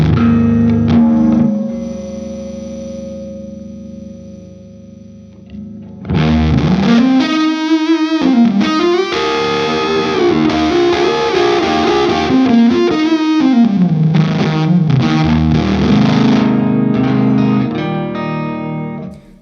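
An electric guitar runs through a BJØRN fuzz pedal set at full tilt, starting with a sustained hissy buzzing drone, then breaking into loud, saturated fuzz-distorted notes and bends that ring on to the end.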